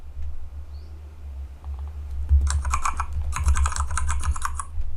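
Typing on a computer keyboard, with close, rapid clicking keystrokes in quick runs and brief pauses over a steady low background hum.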